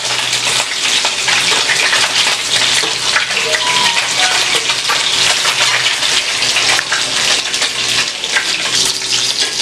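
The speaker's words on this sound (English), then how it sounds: "Now the meatballs being cooked," Meatballs frying in a pan with soy sauce and spring onions give a steady, loud sizzle with watery bubbling, continuous and close, with no talk.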